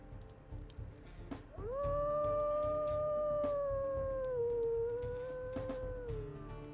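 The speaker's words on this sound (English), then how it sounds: "It looks like all of these pups got a really soft howl." A wolf pup in the WolfQuest video game gives a soft, squeaky, sustained howl that rises and slowly falls, clear and close over a quiet game background, with no talk.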